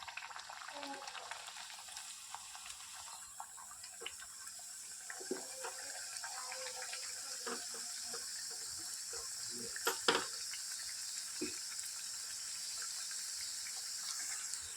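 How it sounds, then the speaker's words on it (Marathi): Puris fry in a pan of hot oil over a low flame, giving a faint, steady bubbling sizzle with occasional soft pops and crackles. "मंद आचेवर क्रिस्पी होईपर्यंत तळून घ्यायचं आहे"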